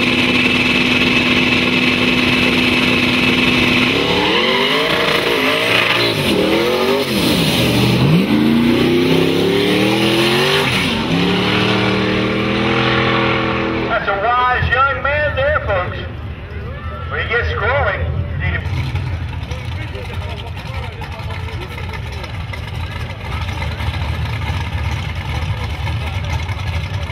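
Race car engines at a drag strip, loud and continuous, with rising revving sweeps mid-run and a rougher idling roar afterward; a public-address announcer talks over the engine noise throughout.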